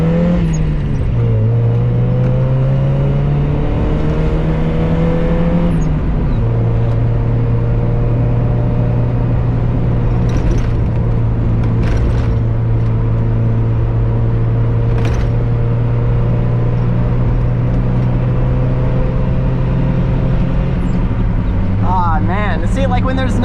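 A 1991 Mazda Miata driven flat-out on an empty mountain road at sunset, its engine droning loud and steady with rising pitch sweeps through gear changes and a few brief clicks, heard from inside the car.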